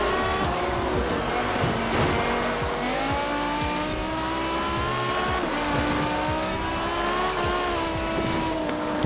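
A BMW drifting in Forza Horizon 4, with a loud, steady engine note that rises and falls as the rev pitch shifts, and tire squeal running continuously under it.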